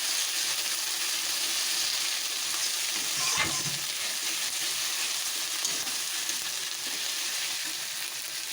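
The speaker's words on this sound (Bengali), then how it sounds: "গ্যাসের ফ্লেমটা লো টু মিডিয়ামে রেখে এটা নাড়াতে হবে, নাহলে মশলাটা ধরে যাবে" Ginger and garlic paste masala for a mutton curry fries in a pan over a low-to-medium gas flame, a steady close sizzle with a brief spoon stroke partway through.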